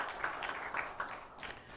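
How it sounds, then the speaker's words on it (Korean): Faint audience applause fills a university chapel service at Hanyang University, a soft, diffuse patter of clapping with a few slightly louder bursts, heard from a distance. "우리 감사의 박수 하겠습니다."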